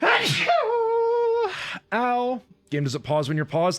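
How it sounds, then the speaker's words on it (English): A single forceful sneeze from a man playing a puzzle game on a live stream, loud and close, quickly followed by his speech. "I'm gonna sneeze so hard."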